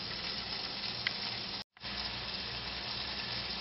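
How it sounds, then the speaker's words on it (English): Spam slices searing in a frying pan alongside a cooking hamburger patty, a loud continuous close-up hiss that drops out for an instant before resuming steadily. "let's go ahead and let's sear our Spam a little bit"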